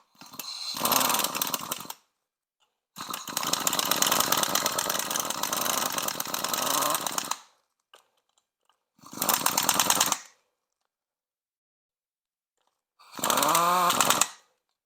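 A power tool runs close by while tightening brake bolts on a 1999 Toyota Tacoma, heard as four separate bursts of buzzing whir, the longest lasting about four seconds, with silence between them and no talking.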